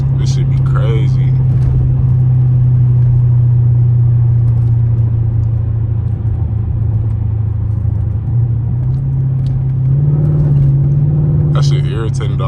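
Straight-piped second-generation Dodge Charger R/T V8 droning steadily with a deep low rumble while driving, loud and close throughout, with road noise underneath.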